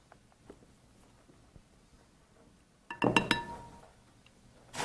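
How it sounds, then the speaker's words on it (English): A whisk working cream in a bowl gives a quick cluster of bright metallic clinks against the side after a quiet stretch of faint taps, followed by another rising clatter at the end. "you just want to whisk it to make it smooth"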